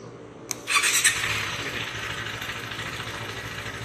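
A KTM 390 BS6 motorcycle with a faulty throttle ride-by-wire switch gives a sharp click, then the engine catches and settles into a steady, fairly loud idle close by.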